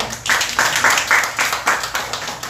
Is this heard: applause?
yes